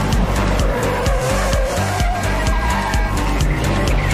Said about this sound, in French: aujourd'hui on va parler des poursuites en voiture